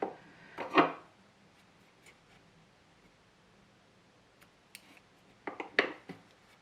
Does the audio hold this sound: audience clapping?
no